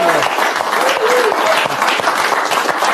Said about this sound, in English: Let's give John a big round of applause.